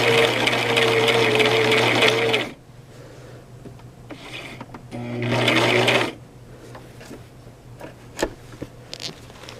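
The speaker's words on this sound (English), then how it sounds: "I just stitched the other part with the presser foot up" A Brother LX 3817 sewing machine stitches through thick fabric in two close, steady bursts, each running a couple of seconds with a motor whine, separated by a quiet pause with light handling noises.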